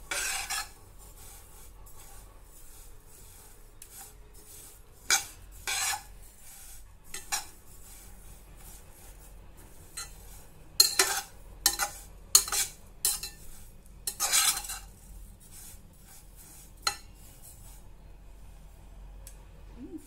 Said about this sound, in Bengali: এই প্যানের মধ্যেই নাড়াচাড়া করতে থাকবো।